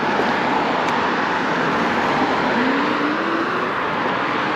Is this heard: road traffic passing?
yes